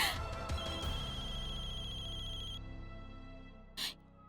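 A mobile phone rings with an incoming call, a steady tonal ringtone playing for about two and a half seconds before cutting off, followed by a brief clatter near the end.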